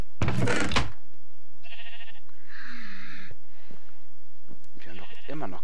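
Sheep bleating in the video game Minecraft: several short, clear game bleats spaced through the passage, with brief thuds between them and no talk.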